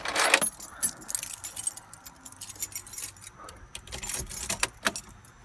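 Keys jangle sharply up close before a 2.4-liter engine in a 1993 Mitsubishi Mighty Max pickup cranks and turns over in scattered clicks and bursts.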